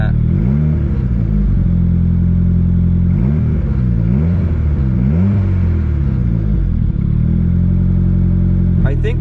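A car engine idles rough and rich after new fuel injectors were fitted, a steady low rumble with wavering, uneven pulses that run throughout and sit close and loud.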